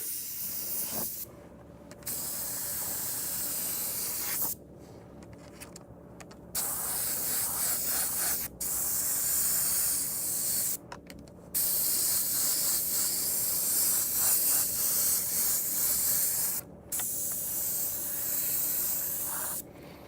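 An airbrush sprays paint in repeated close bursts of soft hiss, each lasting a few seconds, separated by brief silent pauses, with no voices.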